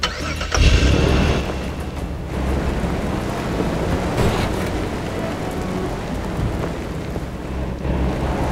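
A car engine starts up in the video game Far Cry 2, a loud cranking burst followed by a rough steady engine rumble amid heavy noise like rain.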